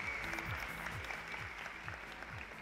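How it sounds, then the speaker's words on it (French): A theatre audience at the 12th gala of a festival of cultures and languages gives a quiet, sustained round of applause, dense clapping heard from a distance. "Un peu d'applaudissements, s'il vous plaît."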